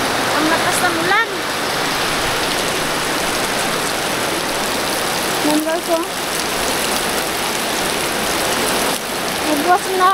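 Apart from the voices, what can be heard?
heavy rain pouring down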